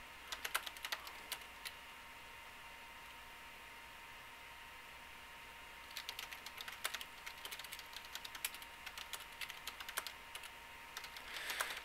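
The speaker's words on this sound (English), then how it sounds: "Sorry, I'm just typing here." Fingers tap on a computer keyboard in two bursts, a short flurry at the start and a longer run of quick clicks later, close and fairly quiet over a faint steady hum, with no talk.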